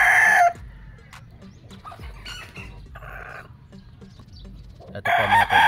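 Gamefowl roosters crow on a game farm, one loud close crow opening and another closing, with fainter distant crows and clucks in between and steady low farmyard noise underneath.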